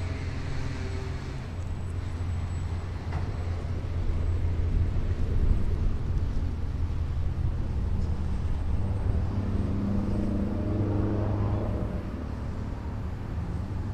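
Small N250 radio-controlled model airplane taxiing and landing on a circuit, its steady motor drone and low rumble close by and continuous, with a slight swell midway and no voices.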